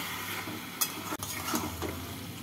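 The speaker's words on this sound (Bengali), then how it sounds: "চিনি দিয়ে নাড়াচাড়া করে নেব" Thor ghonto, a banana-stem curry cooked with Gobindobhog rice, being stirred in a pot after sugar is added, with a soft continuous sizzle, a few scraping strokes of the spoon and a sharp clink against the pot.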